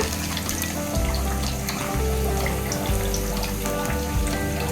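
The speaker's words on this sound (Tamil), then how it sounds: "நல்லா பாருங்கள் செவந்துருச்சு இந்தமாரி நம்ம பொறிச்சு எடுத்துக்குவாங்க" Chicken 65 frying in hot oil, street-stall style, gives a loud, steady crackling sizzle with dense popping bubbles that runs unbroken throughout, with no voices.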